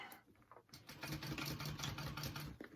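A sewing machine stitches closed a hole in a backpack's lining, its motor starting after a brief pause and then running in a steady, rapid mechanical rhythm up close until it stops at the end.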